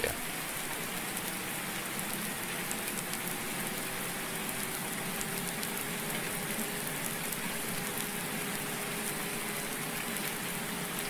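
Steady, even downpour in Farming Simulator 19, a dense continuous hiss of rain that carries on unbroken with no voices over it.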